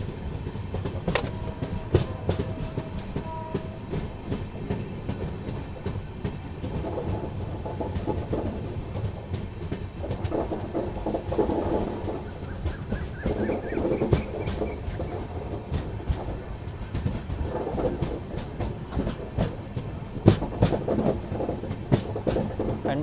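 The Secunderabad–Repalle Express runs steadily along the rails, a continuous rumble with rhythmic clickety-clack of wheels over joints and occasional faint squeals, heard from inside a carriage.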